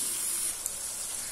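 Curry leaves sizzle in hot oil with onions while cooking a banana flower stir-fry, a soft, steady hiss-like fry with one brief crackle partway through.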